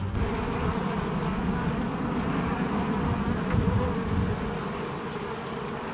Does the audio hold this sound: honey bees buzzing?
yes